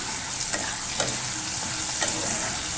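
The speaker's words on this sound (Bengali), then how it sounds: "তেলেতে আদা রসুন বাটাটা দিয়ে দিলাম" Ginger garlic paste frying in oil, a steady bright sizzle with occasional stirring scrapes, close up and without talk.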